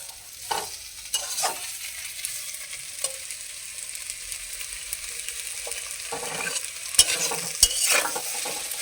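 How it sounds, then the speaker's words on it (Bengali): Potatoes, flat beans and cauliflower frying together in a pan while being stirred, with a steady soft sizzle and scraping strokes of the spatula, plus a few sharp clinks against the pan near the end. "আলু শিম আর কপিটাটি একসঙ্গে আমি ভেজে নিয়েছি"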